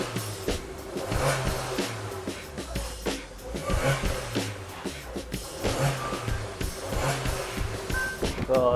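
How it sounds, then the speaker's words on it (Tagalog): A Suzuki Jimny fitted with a Rosso Modello aftermarket muffler runs nearby with a steady, throaty exhaust burble and low rhythmic pulsing, fairly loud and continuous throughout. "So pakinggan na natin yung tunog ng ating muffler."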